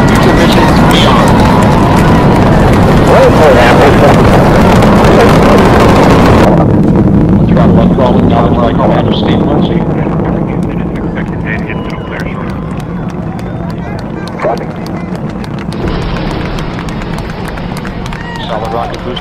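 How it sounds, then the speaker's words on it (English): Space shuttle Discovery lifts off with a loud, continuous rocket roar that starts broad and harsh, then thins and fades gradually as the vehicle climbs, with a voice talking over the rumble throughout. "Boost ignition and liftoff of the space shuttle Discovery"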